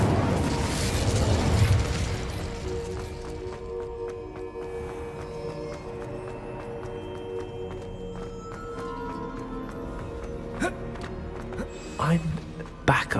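In Hogwarts Legacy, the Incendio spell bursts with a loud fiery whoosh and crackling flare at the start, then fades to quieter ambience with a few sharp pops, while a voice talks.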